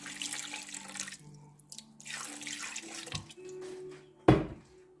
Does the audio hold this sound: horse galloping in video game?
no